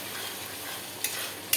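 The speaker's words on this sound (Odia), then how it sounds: "ଭଲ ଭାବରେ ମସଲାଟାକୁ କଷି ଦେଉଛି" Masala with tomato sautéing in a pan, a constant hissing sizzle with brief scraping stirs near the end.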